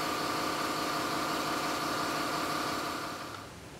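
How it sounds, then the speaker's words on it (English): An air compressor runs in a garage where a 1972 Corvette and a 1967 Coronet are being worked on: a steady, loud, droning hum with a buzzing rumble that continues unbroken, then fades slightly near the end. "How could you forget to cut the compressor off?"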